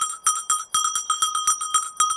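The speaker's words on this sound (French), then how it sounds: "La cloche ralentit." A hunting dog's bell rings in a steady run of bright, close metallic clanks, about four per second, with no talk.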